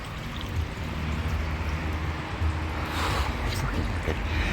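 Water gushes and splashes steadily from an old, brittle flat hose pipe topping up an outdoor koi pond, close and continuous, with a brief stronger splash partway through.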